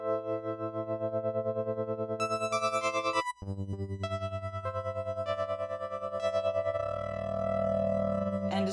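Yamaha CP-88 stage piano plays sustained electric-piano chords with tremolo, the volume pulsing in a steady wavering rhythm; a short gap breaks the passage before the chords and pulsing resume, clear and up close.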